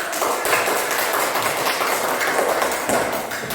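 Classroom clapping breaks out after a student answers a quiz question correctly in a Hindu religious education lesson, a dense patter of many hands filling the room continuously at close range.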